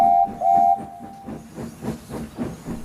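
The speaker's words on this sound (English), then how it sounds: "Duck would always whistle happily to it." A wooden toy railway steam locomotive whistle sounds in two short blasts, followed by the rhythmic chuffing and hiss of the engine moving along.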